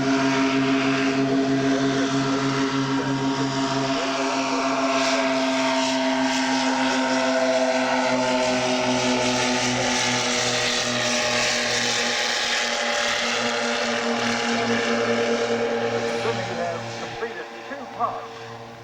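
A Vickers Vimy propeller biplane drones at an airshow, its engines holding a steady, loud, tonal hum throughout. A voice talks over the sound for much of the time.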